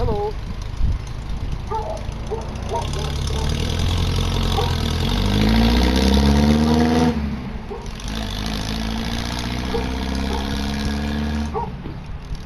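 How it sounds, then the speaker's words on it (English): An antique MG sports car engine idles nearby, then revs with rising pitch and pulls away, fading into the distance. A voice speaks briefly at the start. "That beautiful sound you just heard was my next door neighbor driving away in her antique MG sports car."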